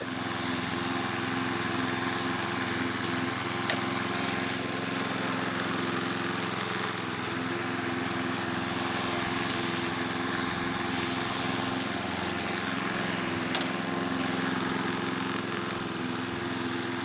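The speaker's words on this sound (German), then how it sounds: "Ich mähe die jetzt gleich nochmal." Lawn mower cutting a mossy lawn down from 25 toward 15 mm, its engine droning steadily and loudly close by for the whole stretch with no pauses or talk.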